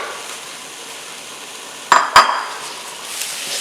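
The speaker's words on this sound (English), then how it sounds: "Stir it up a little bit." Veggies and andouille sausage sizzle steadily in a pan on a large stovetop burner, broken by two quick metallic clinks of a utensil stirring them close by, with no voices.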